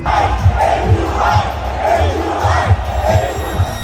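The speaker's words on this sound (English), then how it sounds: "Fans in the crowd started chanting AQI, AQI, referring to the city's pollution levels." Football fans in a stadium crowd chanting a rhythmic two-beat call over and over, a dense roaring mass of voices with steady pulsing emphasis throughout.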